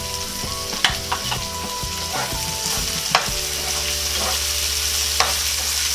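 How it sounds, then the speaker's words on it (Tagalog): Onions sauté in hot oil in a pan alongside browned garlic while making squid adobo, a steady loud sizzle with occasional clicks and scrapes from stirring, close up and without talk. "Ngayon po ay ihanda nyo na po ang inyong mga sibuyas para isunod natin na gisahin."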